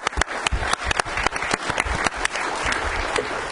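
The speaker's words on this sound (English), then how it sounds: "So let's give them a round of applause." Conference audience at an immigration law and policy event applauding the organisers: loud sharp individual claps at first, thickening into a continuous rolling round of applause from a full room.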